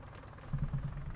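A tractor engine in Farming Simulator 19 runs with a low, throbbing idle and short pulsing knocks in the bass, close and steady for about a second.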